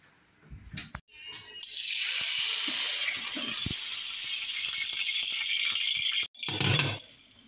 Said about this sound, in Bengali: তেলে পানি ছিল, ছিটে গেছে